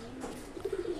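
A racing pigeon held close in the hand gives soft, low cooing, a brief murmur of throaty coos with faint background noise.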